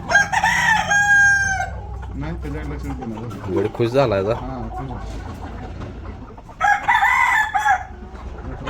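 A rooster with a broken leg crows loudly twice, once at the start and again near the end, its long harmonic calls close by, with people talking in between and around the crows.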